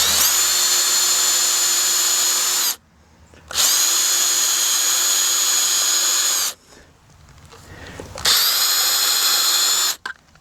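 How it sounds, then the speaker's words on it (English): A power drill bores a quarter-inch hole through conduit while building an arching garden arbor, whining loudly and steadily in three long bursts separated by short pauses. "And then we're going to drill a 1/4 inch hole"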